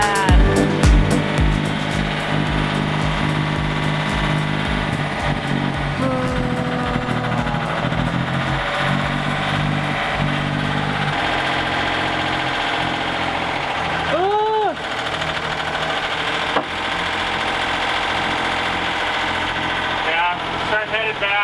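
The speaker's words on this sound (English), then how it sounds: "Not long after firing up the engine, it started running really rough." A sailboat's engine runs rough and loud throughout, a steady uneven drone with a knocking edge, while a voice talks over it partway through.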